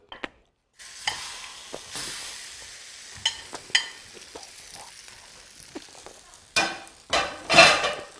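Food sizzles and fries in a hot pan with utensils stirring and scraping, a steady hiss broken by sharper clinks and flare-ups of sizzle, close and loud with no talking.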